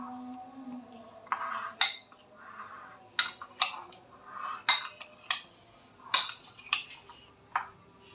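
A spoon mixes sweet corn chaat with chaat masala in a bowl, giving a series of sharp metallic clinks and taps at irregular intervals over a soft steady background hum, close and fairly quiet.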